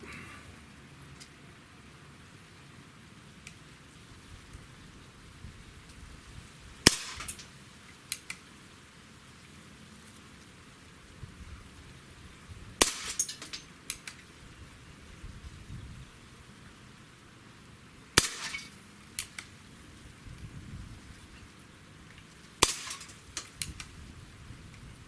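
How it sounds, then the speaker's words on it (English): A Colt 1911 Special Combat Classic smoothbore pistol fires four sharp, separate shots on a 10-meter range, spaced several seconds apart over quiet background hiss with no talking. "All right, let's just shoot 5 shots, see how well we group."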